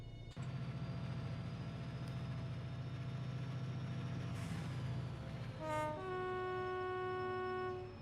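A train engine drones steadily in Train Simulator 2020 with a low rumbling hum and whining tones, then rising pitched electric whines near the end.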